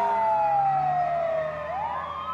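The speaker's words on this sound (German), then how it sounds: "Du hörst die Sirene in den Straßen." A street siren wails loudly and close, one long falling tone that then turns and rises again, alone without speech.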